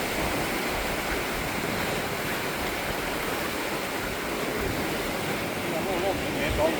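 Floodwater streams continuously around a house in Laos during a second flood, a steady broadband rushing wash that holds at a constant loud level throughout, with no distinct breaks.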